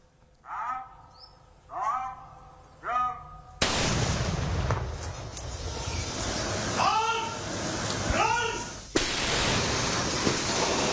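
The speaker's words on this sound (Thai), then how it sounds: "ดูเวลามันระเบิดพร้อมกัน" Several sharp blasts of unexploded ordnance detonated together in the middle of a rice field, loud and close, with broadband bursts and roaring noise between them; frog-like croaks are heard early on.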